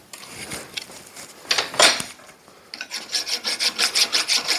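A metal file rasps against a metal jogger shaft, a few irregular scrapes at first, then a steady run of fast, even back-and-forth strokes, close and fairly loud.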